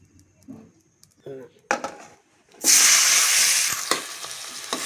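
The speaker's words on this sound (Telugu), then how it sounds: "టమాటాలు కూడా బాగా 2-3 నిమిషాలు బాగా మగ్గనిద్దాం." Tomatoes go into hot oil in a pan after fried eggplant and start a loud, close, steady sizzle, preceded by spoon clinks and pan knocks, with a voice speaking briefly.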